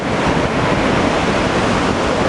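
Ocean surf breaks at Anglet beach as a loud, constant wash of rushing water, mixed with strong wind buffeting the microphone.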